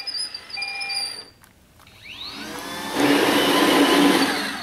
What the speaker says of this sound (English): I can now drive it forward